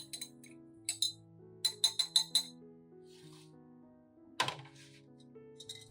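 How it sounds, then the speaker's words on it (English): Wheat flour solution for watering orchids is stirred in a glass container, giving bright clinks and taps in irregular bunches with one sharper knock. Soft steady music plays underneath. "First, stir the wheat flour solution well."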